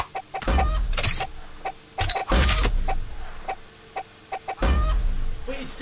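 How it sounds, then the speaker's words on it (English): Chicken-like clucking from grenades in a video game, repeated in short bursts with sharp clicks, loud and close, with no talk over it. "Wait, it's the grenades that make the chicken sound."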